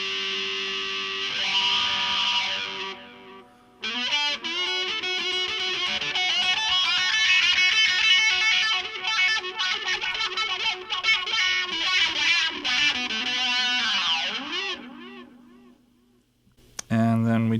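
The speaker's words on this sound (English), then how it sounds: "fuzzy wah echo sound." A guitar played through a programmable looper preset with fuzzy wah echo effects gives distorted, sweeping, echoing notes, loud and continuous with brief pauses.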